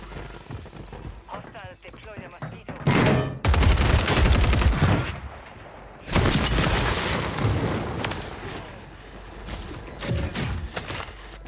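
Bursts of rapid gunfire in Call of Duty: Warzone erupt in loud volleys, with quieter stretches between them and mechanical clatter underneath.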